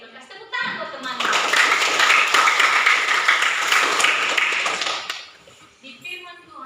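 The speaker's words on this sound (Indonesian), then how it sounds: "Tepuk tangan buat teman" Classmates in a classroom break into a dense burst of clapping lasting about four seconds, loud and close, with children's voices heard briefly before and after it.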